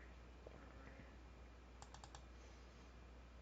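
Letters typed on a computer keyboard during tee time booking, a few soft isolated clicks followed by a quick run of four faint keystrokes, quiet against a low background hum.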